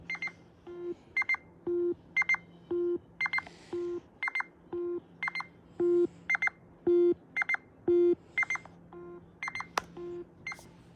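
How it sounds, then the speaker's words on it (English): A Nintendo Switch 2 controller's rumble motor buzzes out a series of short tonal beeps in a regular rhythm, about a dozen close, clear pulses over a faint background hum. "That's actually the rumble motor making the noise."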